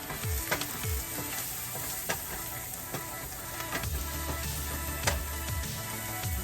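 Food fries and sizzles steadily in a hot pan seasoned with pink Himalayan salt and black pepper, with sharp crackles and pops over a continuous close hiss and no talking.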